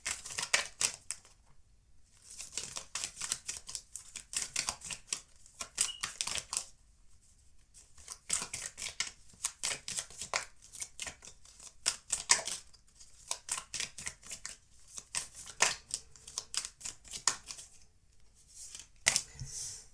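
Tarot cards shuffled and dealt by hand, a long run of quick crisp riffles and flicks in bursts with brief pauses, close and fairly loud, no talking.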